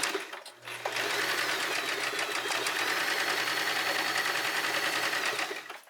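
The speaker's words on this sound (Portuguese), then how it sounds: "costuro um pedacinho, volto pra trás" A sewing machine stitches lace onto a pillowcase, running at a steady, loud, close whir for several seconds after a brief start, with the stitch rhythm staying even while it backstitches.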